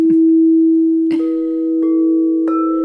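A crystal singing bowl rings with a sustained pure tone, steady and loud, while a few light strikes or touches add brief higher overtones over the continuous hum.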